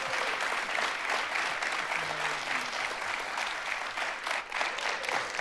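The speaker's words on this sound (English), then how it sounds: "give a big round of applause" An awards-ceremony audience applauds steadily for the whole stretch, a dense, loud wash of clapping with some crowd noise, no speech over it.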